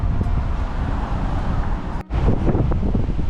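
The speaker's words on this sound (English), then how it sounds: "The wind is really strong as we're pulling in here." Strong wind roars and buffets the microphone continuously aboard a boat near a dam, a dense low rumble with a brief dropout partway through before the gusting resumes.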